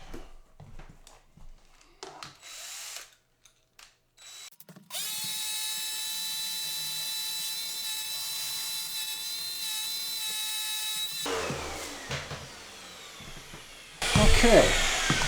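A shop vacuum starts up and runs with a steady, loud whine, and then a drill bites into metal with harsh, grinding noise over it. Scattered clicks and knocks come before the vacuum switches on.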